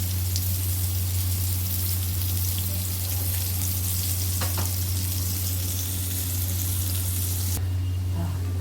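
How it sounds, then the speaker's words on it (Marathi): Vadas deep-frying in hot oil beside fish cooking in a home kitchen give a steady, close sizzle that crackles continuously throughout over a low hum, with no talking. "एका बाजूला साईड बाय साईड इथे मच्छी झाली आहे, जवळजवळ झालीच आहे आणि मम्मी इथे वडे तळतीये."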